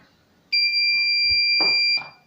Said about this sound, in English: float sensor goes upside and buzzer is triggered like this